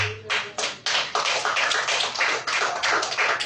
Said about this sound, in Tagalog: Pag hindi kayo pumalakpak, papapalakpakin ko kayo.